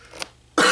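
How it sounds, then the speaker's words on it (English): A single sharp cough bursts out near and loud right at the end, after a brief, fainter throat-clearing sound; no talk is heard. "I'm still coughing from being sick"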